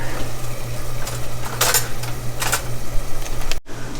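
A knife scrapes and clinks against a pan while cutting cowboy cornbread in two, close and fairly loud over a steady low hum, ending in a sudden cut to quiet.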